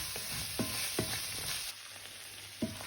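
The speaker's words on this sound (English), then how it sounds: "Just cook them off until the onions start to go translucent." Onions and tomatoes fry in a pan for Canary Island meatball sauce, giving a steady low sizzle with a few soft stirring knocks spread through the stretch.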